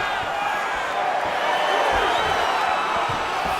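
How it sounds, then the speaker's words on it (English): An arena crowd at a UFC bout between Israel Adesanya and Kamaru Usman gives off a steady, dense roar with rising oohs and cheers. The sound holds throughout with no clear pauses. "You hear this crowd just eating out of his hand, oohing and on every time he advances."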